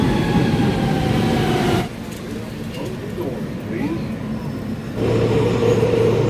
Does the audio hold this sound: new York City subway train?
yes